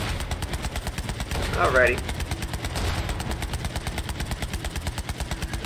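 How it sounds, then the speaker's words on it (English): Rapid video-game gunfire from Borderlands 3 while shooting enemies from a vehicle, a steady rattling stream running under a brief spoken word and game noise throughout. "we'll just shoot them all down."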